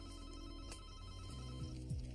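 A telephone rings indoors, a faint bell-like trill repeating in short bursts over a low background hum, with no talk during the ring.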